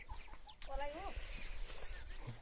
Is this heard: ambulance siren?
no